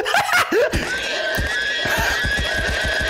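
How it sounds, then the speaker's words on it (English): A horse block from a Minecraft mod lets out a loud, wavering neigh, followed by a rhythmic run of clip-clop hoofbeats in the game's sound effects, with no talking. "Horse block. He makes horse noises."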